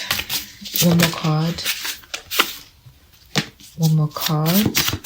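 Tarot cards riffle and flap as they are shuffled close up, in several quick bursts with someone talking over them.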